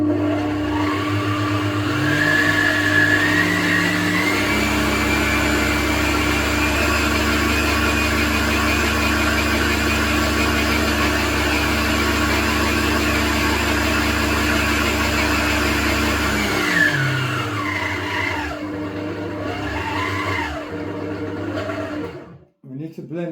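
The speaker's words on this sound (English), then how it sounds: "To blend it till it's very fine" A kitchen blender runs continuously on spinach and water for a sauce, a loud steady motor whir with a rising pitch that shifts as the load changes, then winds down near the end.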